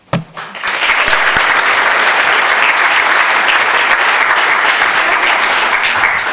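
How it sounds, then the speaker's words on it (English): Loud, dense applause from a large audience at an evening ceremony, rising sharply after a brief start and holding steady and close for several seconds. "I need to respectfully ask that we hold applause this evening."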